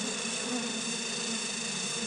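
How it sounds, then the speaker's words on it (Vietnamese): Dense, steady buzzing of a swarm of wild forest honey bees, many drones around the hive, a close continuous drone with no pauses or talk. "Nó ong đực rất là nhiều nha."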